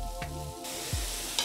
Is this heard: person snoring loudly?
no